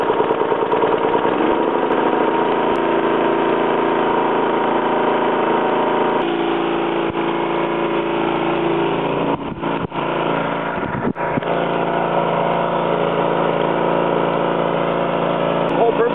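The air compressor of a hookah diving system runs steadily and loudly up close, a continuous mechanical engine drone with a couple of brief dips midway and a voice talking over it.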